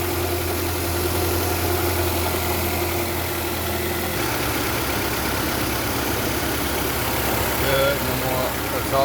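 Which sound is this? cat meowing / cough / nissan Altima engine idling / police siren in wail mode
nissan Altima engine idling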